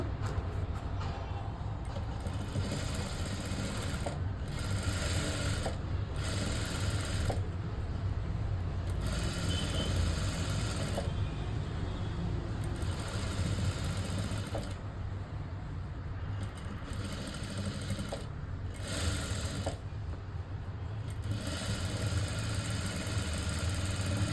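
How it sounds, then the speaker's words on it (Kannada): An electric sewing machine stitching the shoulder seam of a blouse, humming and rumbling steadily up close, with brief breaks and shifts in pitch as stitching runs start and stop. "ಈಗಿನ್ನ ಒಂದು ಸ್ಟಿಚ್ ಏನು ನಾವು ಎರಡು ಸ್ಟಿಚ್ ಹಾಕ್ಕೊಬೇಕು ಅದನ್ನು ಹಾಕ್ಕೊಂಬಿಡೋಣ"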